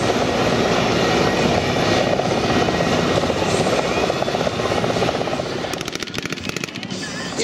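An attack helicopter lighter and smaller than an Mi-24 flies at the Cihelna 2014 air show. A loud, continuous rotor-and-engine roar dominates and eases slightly toward the end, where a rhythmic blade chop stands out.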